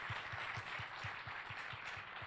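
Faint, distant clapping at an awards ceremony for startups, with a steady, evenly spaced rhythm of hand claps that sounds like a small group applauding in time.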